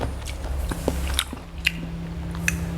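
Crispy pork belly with rice, chili curry and fried egg being bitten and chewed close to the microphone, a run of sharp crunchy bites and moist chews in quick irregular succession, no talking.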